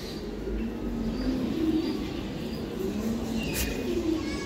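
Giribaz high-flying racing pigeons coo softly in low, repeated murmurs close by, over a faint steady background hiss.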